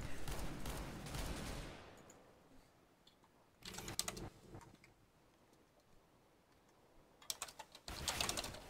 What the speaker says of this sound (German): Boah, Headshot von dem scheiß Sniper.